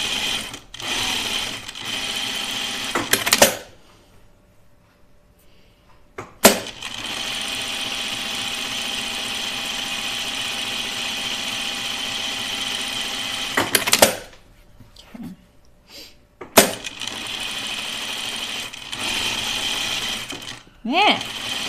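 A sewing machine stitching a dress runs loud and close in long continuous bursts of rapid needle rattle, broken by short quiet gaps and sharp clicks as it stops and starts.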